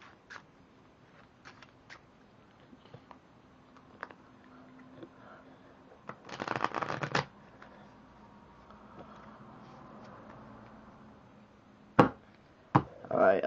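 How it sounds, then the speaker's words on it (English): A deck of playing cards is shuffled by hand in one quick, crisp riffle burst lasting about a second. Faint handling clicks and taps come before and after it. "now the spectator can shuffle these cards"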